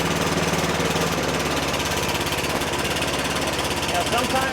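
A Yard Machine 10.5 HP snow thrower engine runs steadily at half throttle with the choke on, a loud, continuous rough drone throughout.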